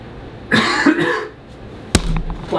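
A single close cough bursts out loud and rough, followed a moment later by a sharp, brief crack, with a quiet room in the background.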